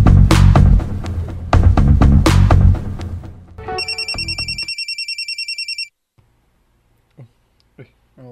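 A cellphone ringtone plays as a rapid repeating electronic trill for about two seconds after people talk loudly, then cuts off into near silence with a few faint clicks.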